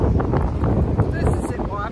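Gusty wind rumbles across the microphone at the seaside in Bournemouth, with a voice faintly mixed in beneath the blustery noise.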